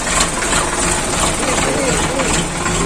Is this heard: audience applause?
no